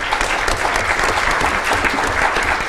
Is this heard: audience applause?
yes